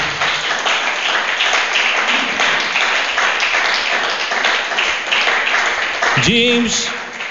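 Church congregation applause, a steady wash of many clapping hands that continues throughout, with a voice speaking over it near the end.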